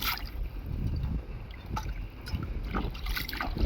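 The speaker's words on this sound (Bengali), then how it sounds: "তোমরা দেখো এখন কীভাবে আমরা ধুচ্ছি" Raw chicken feet are washed by hand in water, giving close, continuous sloshing, splashing and gurgling with no voices.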